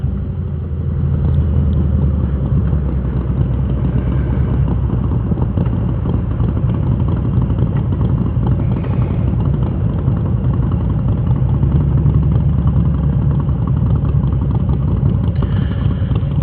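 A motorcycle being ridden produces a continuous low engine rumble with wind buffeting, steady and close throughout, with no talk.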